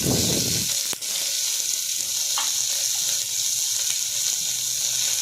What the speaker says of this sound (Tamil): முதல்ல பாத்திரத்தை வச்சு எண்ணெய் கொஞ்சம் கடுகு சீரகம் இது கூட இந்த பூண்டும் வதக்கிட்டு நம்ம வெங்காயம் கொத்தமல்லி கருவேப்பிலை ஆட் பண்ணிக்கலாம்